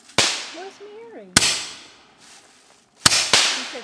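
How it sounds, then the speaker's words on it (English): Small handheld fireworks go off in a series of sharp cracking bangs, four close pops with fizzing tails between them, while people talk and exclaim in the background. "What are these called? Fireworks."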